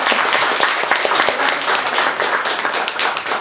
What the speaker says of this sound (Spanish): el aplauso para Concepción Arenal que nos dio